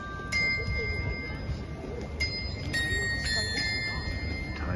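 Bells ringing in the ski town of Morzine, several clear sustained tones that chime and overlap at a distance, set over a busy background of crowd and street noise.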